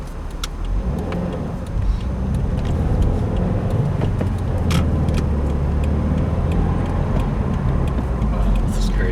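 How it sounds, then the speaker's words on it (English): A 2015 Subaru WRX's engine hums steadily from inside the cabin after repair of a torn pitch stop bracket, with road rumble throughout and occasional faint clicks. "I haven't driven this car in so long."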